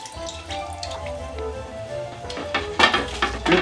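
A frying pan rinsed under running tap water at a kitchen sink, a steady wash of flowing water with louder splashing bursts toward the end as the pan is handled.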